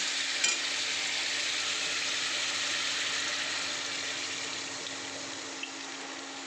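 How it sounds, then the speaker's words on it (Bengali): Water pours into a pan of simmering shankar (stingray) fish curry with potatoes and released oil, giving a steady, loud sizzling hiss throughout with a brief splash near the start. "এবার আমি এতে জল অ্যাড করে দেবো।"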